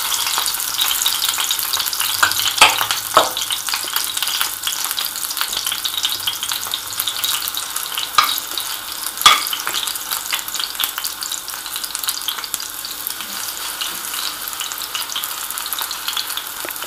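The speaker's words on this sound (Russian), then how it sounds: "И будем жарить наши оладушки." Continuous crackling sizzle of potato fritter batter frying over high heat in a hot pan, with occasional sharper pops and light scraping, steady and close.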